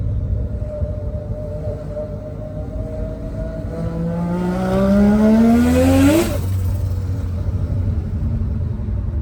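A Mazda RX-7 FD with a turbocharged 20B three-rotor engine, running about 9 psi on 315 tires during street tuning, revs up in a rising howl that peaks and cuts off, over a steady low drone of driving.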